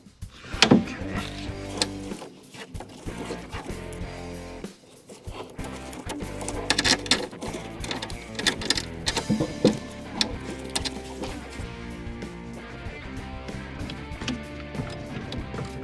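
A wrench tightens a bolt on the housing of an Onan 4000 generator, producing a dense run of metallic clicks, ratcheting and scraping taps that continues steadily at close range.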